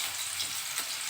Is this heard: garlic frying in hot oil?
yes